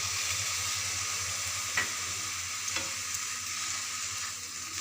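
A halwa frying in ghee with sugar sizzles steadily up close. A couple of brief stirring scrapes break through the constant hiss, and no one speaks.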